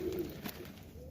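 Pigeons cooing in a loft on a cold, crisp early morning in Melbourne, soft low coos heard faintly at a slight distance with no talking.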